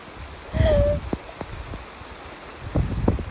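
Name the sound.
heavy rain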